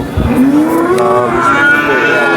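A single drawn-out cow moo at the Sangola cattle market, close and loud, rising and holding before trailing off, with no talk over it.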